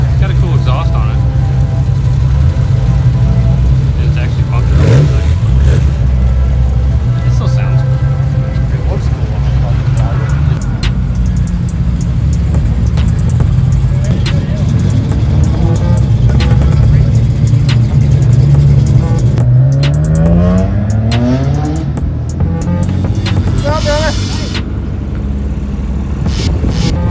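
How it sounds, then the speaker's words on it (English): A Volkswagen car with an aftermarket exhaust rumbles steadily and revs up near the end at a Cars and Coffee meet, with people talking over the exhaust note throughout. "It's got a cool exhaust on it."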